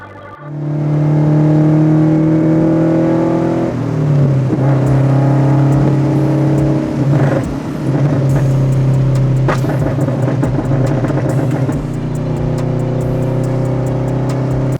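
A Subaru BRZ / Toyota 86 four-cylinder engine running smoothly after a spark plug change, cured of its misfire, holding a steady, loud drone with a slight pitch dip near four seconds and a few light revs, no voices.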